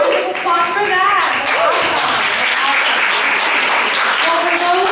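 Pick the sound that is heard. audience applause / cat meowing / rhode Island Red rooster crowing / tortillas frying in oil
audience applause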